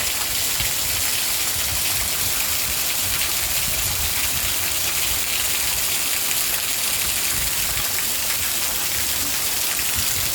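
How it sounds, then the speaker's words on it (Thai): Heavy windless rain at dawn in Buriram, Thailand, pours steadily and loudly, a dense continuous hiss of water hitting surfaces with no pauses, thunder or voices. "กับบรรยากาศฝนตก เย็นสบายสบาย"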